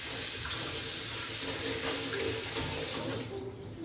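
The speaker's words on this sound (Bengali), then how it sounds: "এই চায়ের কাপ ফাপগুলো এখন ধুই" A kitchen tap runs steadily at close range, a continuous rushing splash of water while tea cups are being washed, with no voices.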